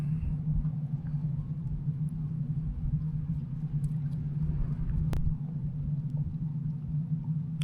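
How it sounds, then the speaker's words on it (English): Inside a parked car at night, the heater fan blows with a low, steady rumbling whoosh, close and constant, with no talking. "You can hear our heater blowing."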